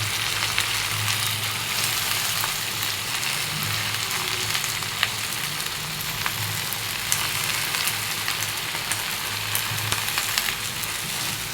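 Leafy greens frying in a pan over a lowered gas flame, a steady close sizzle with crackling pops and occasional stirring scrapes, continuing without speech.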